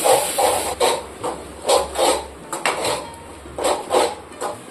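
Tomatoes and chicken masala being sautéed in oil in a pan, with a spoon scraping and clattering against the metal in repeated bursts over a steady low sizzle and hiss.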